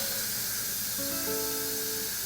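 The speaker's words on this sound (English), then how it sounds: "I'm going to release the steam" Instant Pot pressure cooker venting steam after cooking beef ribs, a loud, steady hiss close by with faint whistling tones rising partway through.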